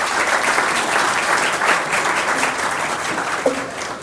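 Audience applause welcoming Dr. Ryan Sullivan to the stage for a talk on immunotherapy treatments, sustained loud clapping from a full room, even and continuous, with a faint voice near the end.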